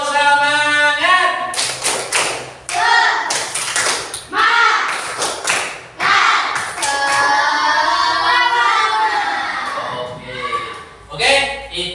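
An Indonesian school class performs the tepuk semangat clapping cheer, loud unison claps in quick rhythmic bursts with pauses between, children's voices chanting along close by.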